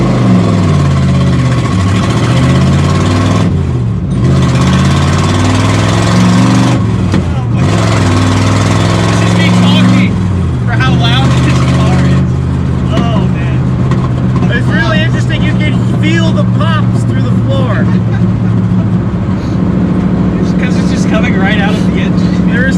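Deep, loud rumble of a 1979 Pontiac Trans Am's 455 cubic inch V8 running, heard up close with a steady droning idle and shifting tone, while people talk over it throughout.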